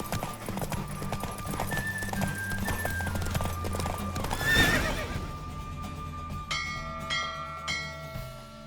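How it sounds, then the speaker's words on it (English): Hooves clip-clop steadily alongside a horse's neigh midway during a horse race in The Witcher 3, with bell-like chimes and music-like tones ringing throughout; a brief shout rises near the middle. "Don't spare the horse!"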